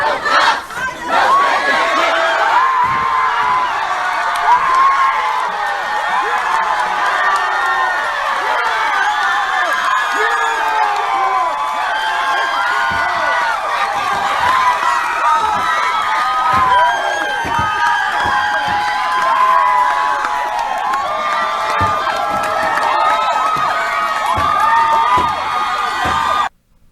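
A large protest crowd screams and chants loudly and continuously, voices overlapping in a dense, sustained roar with shouted slogans rising throughout, heard as a played recording.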